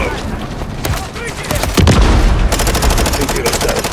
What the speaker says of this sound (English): Fire on the helo!